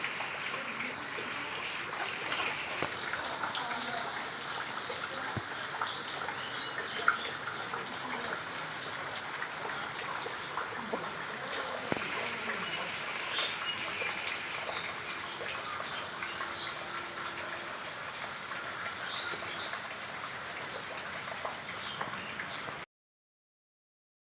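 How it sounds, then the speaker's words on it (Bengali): Heavy rain falls outside in a steady, even wash of noise that holds for over twenty seconds, fairly faint and distant, with scattered small taps and no clear voices. "বাইরে প্রচুর বৃষ্টি প্রচুর"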